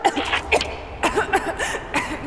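Lara Croft in Rise of the Tomb Raider coughing and choking on pollen, a string of short raspy coughs and strained gasps up close.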